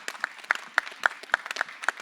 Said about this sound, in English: I just want all of us to just give them a huge applause.